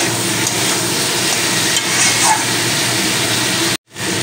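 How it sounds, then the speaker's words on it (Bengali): Kohlrabi with spices sautéing in its own juices in a pan, a steady close hiss and sizzle with faint stirring, briefly interrupted near the end. "সবজির জলে মশলাটা খুব ভালো করে সবজির সঙ্গে কষানো হয়ে যাচ্ছে"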